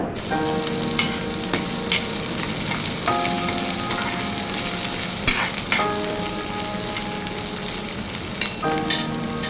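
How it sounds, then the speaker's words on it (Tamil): Large onions sizzle steadily in a hot pan, with a spoon stirring and scraping at intervals, close up and fairly loud, sautéing until translucent for a bitter gourd aviyal. "பெரிய வெங்காயத்தை சேர்த்து ஒரு ரெண்டு நிமிஷம் வதக்கி விட்டுக்கோங்க"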